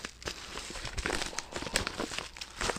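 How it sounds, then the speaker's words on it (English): A book slid into a padded envelope, giving soft crinkling and rustling bursts of the bubble-padded paper, close and fairly quiet throughout. "I'm going to take this book, my Godhead Doctrine book, and I'm going to put it right into that padded envelope right there"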